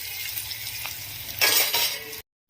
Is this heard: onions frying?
yes